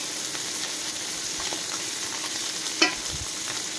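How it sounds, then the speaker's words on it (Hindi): Fish sizzles in hot mustard oil in a pan with a steady, close frying hiss and a brief scrape of stirring partway through. "2 स्पून सोरष तेल देकी माछ को भलो भाबे गोटे गोटे पके की भाजी नबा।"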